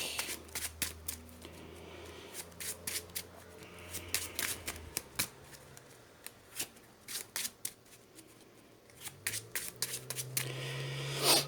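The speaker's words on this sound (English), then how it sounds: "Shuffle my deck." A Marvel Champions card deck is riffled and shuffled by hand during a tabletop game, a run of quick papery ripples and slaps at close range with short pauses between bursts, with no talking.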